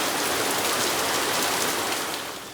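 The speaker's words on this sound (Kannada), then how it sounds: "ಸಿಕ್ಕಾಬಿಟ್ಟ ಮಳೆ" Rain falling steadily, a dense even wash of hiss and patter, close and loud throughout, easing slightly at the very end.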